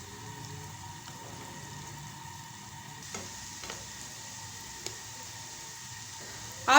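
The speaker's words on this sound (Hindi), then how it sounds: "अब हम दूसरी साइड को फ्राई करेंगे" Koftas fry in hot oil with a steady close sizzle and crackle. A few sharp ticks and pops sound as they are turned in the pan, and a louder clatter comes at the end.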